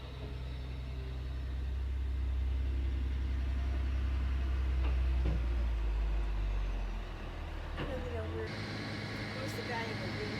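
A cement truck's diesel engine idles with a steady low rumble that swells slightly before easing, with occasional clanks and people talking nearby at a building site.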